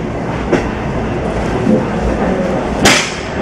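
A small steam train on the Strasburg Railroad in Lancaster, Pennsylvania, pulls into the station with a steady rumble and rattling wheels, punctuated by a couple of sharp metallic clanks.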